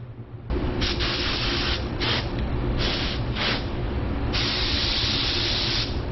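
An affordable spray gun lays down a control coat of paint in a loud, close, continuous hiss, pulsing in several short bursts before a longer sustained pass near the end.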